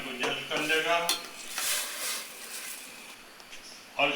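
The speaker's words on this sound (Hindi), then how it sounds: "और इसे थोड़ा सा हिला जुला देंगे" Beef yakhni pulao rice is stirred in a cooking pot, with a spoon scraping and clinking against the metal in uneven strokes while a person talks at the start and end.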